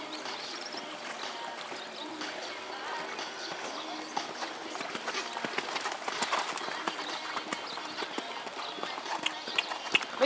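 Horse hooves on soft footing in a riding arena during a riding-horse test, a fast faint patter under a steady outdoor hiss, with distant talk.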